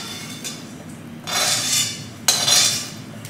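Roasted laddu ingredients scraped out of a kadhai onto a plate, heard as two bursts of bright metallic scraping and clinking, the second sharper, against quiet background with no talk.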